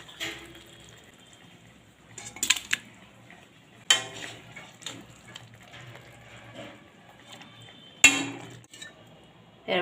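Pots and utensils clink and clatter as cooked mutton is moved into a pressure cooker, sparse sharp metallic knocks and scrapes separated by near silence.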